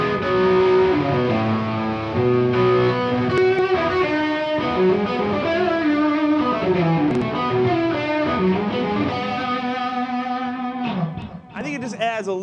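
A distorted electric guitar run through a tube tremolo pedal at slow speed plays gritty sustained notes and phrases with a gentle pulsing texture, ending in a brief noisy scrape.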